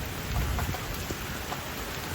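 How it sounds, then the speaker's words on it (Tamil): Heavy rain pours steadily onto surfaces after a hailstorm, a dense continuous patter with scattered louder drops and no voices. "மழை அந்தளவு பெஞ்சிக்கிட்டு இருக்குது"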